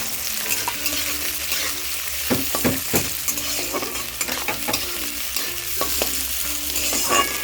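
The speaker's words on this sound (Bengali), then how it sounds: "পেঁয়াজটাকে একটু লালচে করে ভেজে নেব।" Chopped onions frying in oil for a rustic Bengali greens dish, a steady sizzle with repeated scraping and clacking of a spoon stirring the pan close up.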